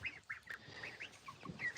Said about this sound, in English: We're introducing the chickens and the ducks together.